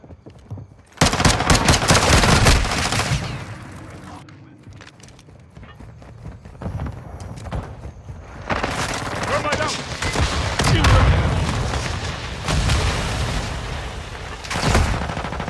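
Dense bursts of gunfire from Call of Duty: Modern Warfare 2 multiplayer fill the mix: loud rapid automatic volleys with echoing cracks, swelling and fading in waves across the whole stretch, without speech.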